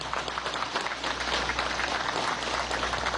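Sustained applause from the public at a Venezuelan government address on diplomacy, dense and steady clapping throughout with a low hum underneath and no voices.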